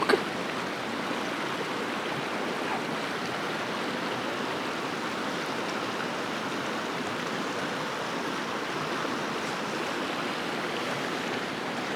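Clear river water flowing steadily near Chitkul in the Himalayan valley, a continuous broad rushing wash heard up close with no voices over it.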